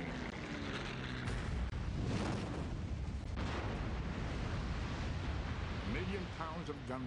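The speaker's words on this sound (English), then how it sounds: "Pounds of gunpowder explode." Gunpowder magazine explosion aboard the battleship USS Arizona during the Pearl Harbor attack: a dense, sustained roar of blast and rumble fills the whole stretch, with a narrating voice over it.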